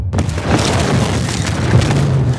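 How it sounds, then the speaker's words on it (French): A massive munitions explosion aboard a cargo ship in a harbor, a loud, sustained deep boom with rumbling low-end roar filling the whole span. "Un cargo rempli de munitions explose dans le port."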